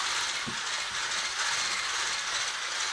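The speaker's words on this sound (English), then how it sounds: "I like to use the mixer just to speed things up a little bit." An electric mixer beats cake batter, a steady whirring hum with a faint rattling mechanical texture, close and fairly quiet, with no speech.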